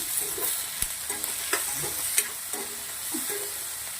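Vegetables stirred in a frying pan for multi-cheese pasta, with a steady low sizzle under scattered scraping clicks of a spoon against the pan, close and moderately loud, no voices.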